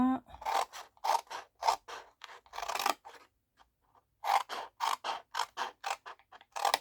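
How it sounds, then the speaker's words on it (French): Scissors cut diagonally through a sheet of A4 paper, a run of crisp, close snips in two quick bursts separated by a short pause, with no talking. "Je vais tout couper en biais, sauf un carré"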